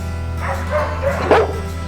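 A pit bull gives a short burst of close barks and yips over a steady low hum.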